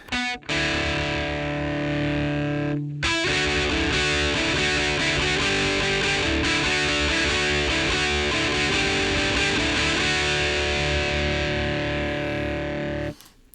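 Overdriven electric guitar rings out in sustained, gritty chords with a crunchy edge, loud and continuous after a brief pause near the start.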